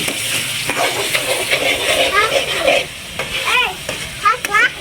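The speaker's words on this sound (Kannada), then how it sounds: "ಉಳ್ಳಾಗಡ್ಡಿ ಫ್ರೈ ಆಗೈತಿ ಸ್ವಲ್ಪ ಉಪ್ಪು ಹಾಕೊಂಡಂತ" Onions fry in a pan with a pinch of salt, giving a close sizzle under brisk stirring and scraping, while short bright squeaky tones pop up near the end.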